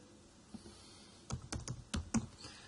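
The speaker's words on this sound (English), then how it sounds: "if we just type in minus tax and then hit enter" A few quick keystrokes on a computer keyboard as a short search query is typed, faint and close, ending in a small burst of taps.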